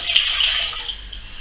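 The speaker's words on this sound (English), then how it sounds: "I'm going to put a pint of water in." A pint of water poured into a cooking pot holding a sliced carrot, a brief close splashing rush lasting just over a second.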